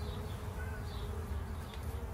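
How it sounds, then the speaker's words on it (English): A new honey bee colony hums steadily inside a soffit joist area, a continuous close buzz with no talk over it. "I'm gonna get this bees backed up, the comb cut out, and foam in the hole"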